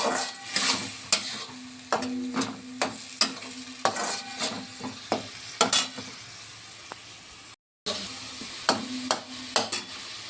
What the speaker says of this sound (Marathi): टोमॅटो पेस्ट बनवली होती ते टाकली आता परत एकदा चांगलं परतून घ्यायचं